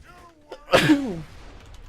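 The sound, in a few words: sneeze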